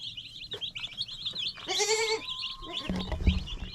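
Goats unused to chickens bleat near baby chicks, one long loud close bleat in the middle with shorter calls after, over a constant high peeping of chicks.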